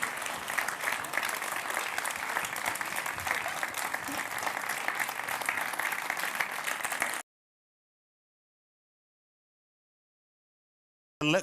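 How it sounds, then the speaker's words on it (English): A gala audience at a youth awards ceremony applauds its winners with dense, even clapping for about seven seconds, then everything cuts to silence before a short burst returns at the very end. "Let's have a round of applause for our winners."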